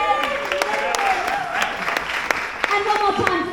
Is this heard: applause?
yes